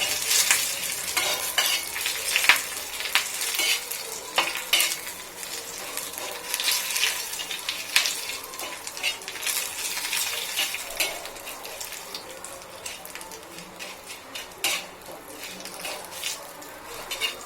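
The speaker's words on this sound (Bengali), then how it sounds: "বেশ ভাজা ভাজা হয়ে গেছে, কারি পাতার গন্ধটা বেরোচ্ছে" A curry leaf tempering for sambar sizzles loudly in a pan while a spoon stirs and scrapes through it, a dense, continuous frying hiss with scattered sharp crackles, close up and without talk.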